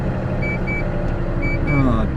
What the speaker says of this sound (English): Sorry about the beeping, I haven't got my seatbelt on